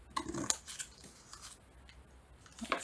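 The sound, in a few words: scissors cutting a small triangle out of a journal cover corner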